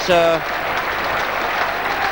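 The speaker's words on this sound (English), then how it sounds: "certainly in this stand the fans are applauding John Humphrey as he leaves the field" Charlton fans in a stadium stand applaud John Humphrey as he leaves the field during a 1995/96 Millwall v Charlton Athletic match, a steady broad wash of distant crowd clapping after a brief voice at the start.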